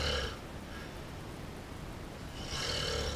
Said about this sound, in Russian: вот уже 15 лет громко и сильно храпит